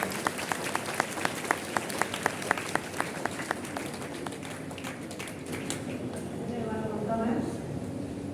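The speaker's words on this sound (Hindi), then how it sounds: "जोरदार तालियों से स्वागत कीजिए" An audience at a school Independence Day assembly gives scattered, rhythmic claps that thin out into a murmur of crowd noise and a voice near the end.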